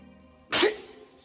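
A single loud, close sneeze bursts out alone midway through, preceded and followed by quiet room tone.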